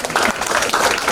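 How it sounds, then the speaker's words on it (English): Youth summit audience in Japan breaking into applause, a brief burst of dense clapping from a crowd with some voices mixed in. "So I want you to clap for yourselves, for the organizers, for the juries, for everyone."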